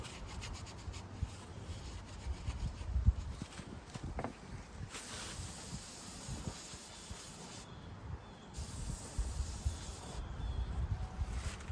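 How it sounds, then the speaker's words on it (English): A cloth wipes dust off a desktop PC side panel, making close, continuous rubbing and swishing strokes that rise and fall in loudness, with no voices. "I'm gonna finish wiping the rest of this down."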